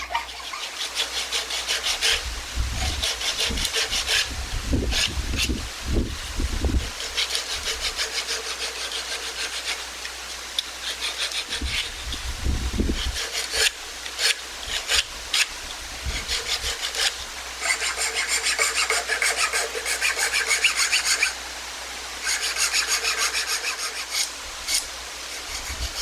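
Wood file and rasp work steadily on a carved wooden flame finial, bursts of dry scraping strokes repeating close and loud throughout, with a few deeper thumps, no talking.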